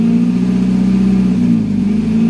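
Nissan Grand Livina engine at idle during a tune-up, a steady low, even hum with a faint ripple, close and continuous, no voices.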